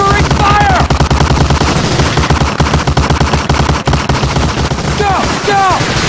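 Sustained machine-gun and rifle fire roars in Medal of Honor Allied Assault on Omaha Beach, a loud, dense rattle of rapid shots throughout, with brief shouted voices near the start and end.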